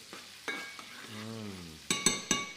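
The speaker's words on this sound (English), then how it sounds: "garlic, butter and hazelnuts. Delicious. That's smelling good. Right, let's give that a little stir." Garlic, butter and hazelnuts stirred in a frying pan, with a soft steady sizzle running under several sharp clinks of a utensil against the pan, the last few clinks coming close together near the end.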